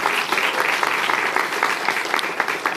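Sustained audience applause at a school event for Deputy Chancellor for Operations Elizabeth Rose, a dense, steady wash of many hands clapping, fairly loud and continuous throughout.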